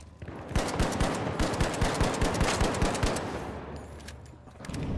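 Rapid automatic gunfire in The Finals, a fast run of sharp shots that hammer steadily for about three seconds, then trail off into lower combat noise before a final burst.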